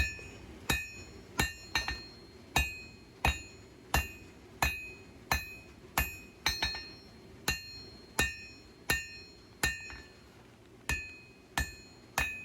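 A 4-pound hammer rings out on hot steel at an anvil while the tip of a bushcraft knife forged from junk steel is drawn down, giving about twenty sharp metallic strikes in a steady, slightly uneven rhythm, close and loud, with no voices.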